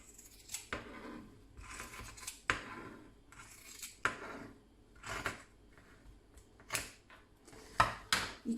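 Scissors snip through folded clothing fabric being cut apart for a cat trivet coaster, a series of close, crisp cuts at an irregular pace, heard alone.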